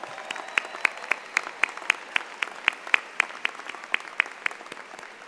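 An audience at a 2016 university graduate commencement ceremony applauds, with sharp claps repeating in a steady, even rhythm for several seconds and no talking.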